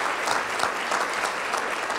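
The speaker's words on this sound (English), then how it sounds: "Give that a round of applause." Brief, fairly soft applause from a seminar audience at a keynote, an even patter of many hands clapping without talk.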